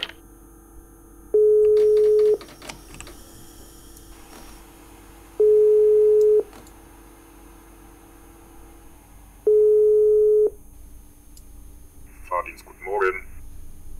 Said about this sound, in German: Oh, ich krieg einen Anruf.